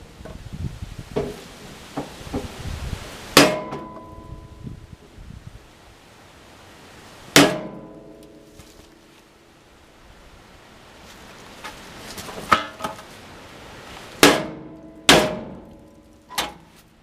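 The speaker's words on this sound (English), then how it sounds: "Bigger hammer is what I need." A bigger hammer strikes thick metal on an old backhoe, several loud ringing blows at irregular intervals with smaller taps and shuffling between them, close by outdoors.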